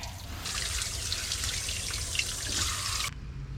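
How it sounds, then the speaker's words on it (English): Water from a tap or hose splashes and rushes steadily over rubber neoprene boots as they are rinsed outdoors, a continuous close hiss that cuts off near the end. "I'm just going to rinse off these boots here"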